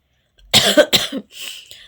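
A child gives two or three close, sharp coughs in quick succession, followed by a softer breathy rasp, with no talking.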